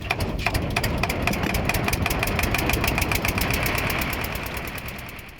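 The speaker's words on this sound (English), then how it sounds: "The Aratika community asked for a motorboat" A motorboat engine runs steadily at a constant idle-like throb, up close and loud, with regular knocking pulses all the way through and no voices.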